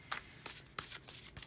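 Tarot card decks shuffled by hand in brisk, close riffling bursts, about four quick rustling flurries in a second and a half, with no voices.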